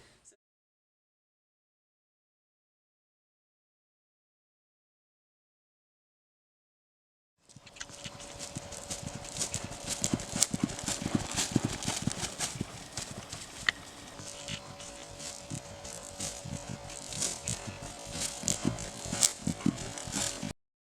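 Horse hooves beat out a canter on the right lead, a steady three-beat clip-clop that starts after about seven seconds of silence and then continues close and clear with no talking over it.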